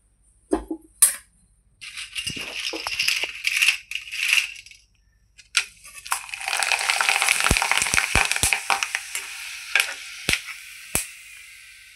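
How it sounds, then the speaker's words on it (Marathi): Potato chips fry in hot oil, a faint irregular crackle and bubbling that comes in short bursts at first, then settles into a denser sizzle punctuated by sharp pops and clicks. "हे बटाट्याचे चिप्स आहेत, आता आपण ते तेलात फ्राय करणार आहोत"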